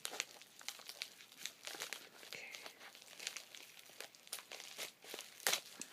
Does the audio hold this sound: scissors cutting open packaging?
yes